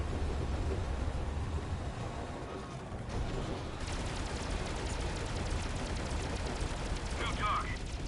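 Gunfire from the Halo video game while shooting enemies, with dense, continuous bursts of shots and booms layered together at a steady level, and a voice briefly under the din.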